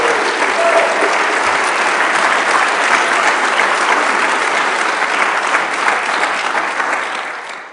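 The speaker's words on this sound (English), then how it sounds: "Let's give them a big round of applause." Sustained, loud round of applause from the audience at a community business-meetup anniversary event in Kansas City, steady dense clapping throughout that tapers slightly at the end.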